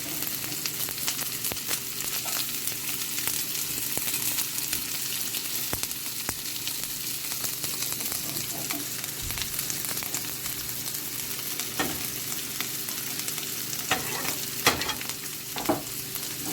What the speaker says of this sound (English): Now we're going to put in the onions. And the garlic.